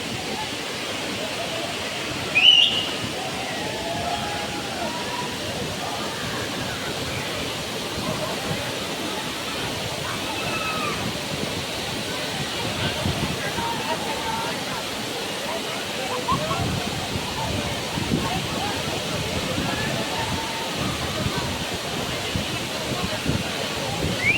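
Continuous rushing roar of the Savatkada waterfall in Ratnagiri, a dense steady wash of water noise filling the whole stretch, with faint voices now and then underneath.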